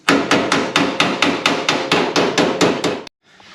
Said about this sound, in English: I'm hammer forming, so I'm trying to do hammer on dolly.